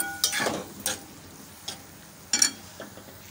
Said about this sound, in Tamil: அவலோடு சேர்த்து 5 மினிட்ஸ் தாளித்ததோடு கலந்துருக்கோம்